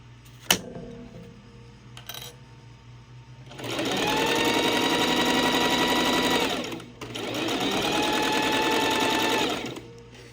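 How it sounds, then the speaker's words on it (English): Sewing machine stitches fabric in two sustained runs, the first about three seconds long and the second slightly shorter, split by a brief pause. The motor whirs steadily and sits close to the listener, with no talk over it. "I need to do one more stitch"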